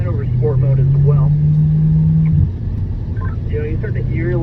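A Chevrolet C8 Corvette engine switched to sport mode holds a steady, loud drone through a lap session, dipping in pitch briefly near the middle, while people talk over it throughout.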